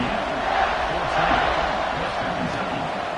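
A large crowd in a college football stadium around a kickoff makes a loud, steady roar that never drops for the whole stretch, with no single cheer standing out.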